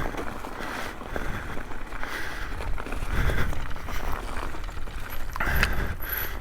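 Tires of an Intense Tazer MX Pro e-bike with a Shimano EP8 motor rolling over mud frozen at 20°F, a continuous close crunching and rattling with mechanical clicks and swells, no talking.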